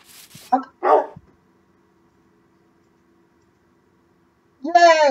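A dog gives a couple of short, sharp barks early on, then after a quiet stretch lets out a rising, whining yelp; the sounds are close and clear.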